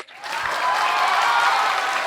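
A literature festival audience breaks into applause, the clapping rising quickly and holding at a steady, moderately full level for the brief moment, with no voices over it.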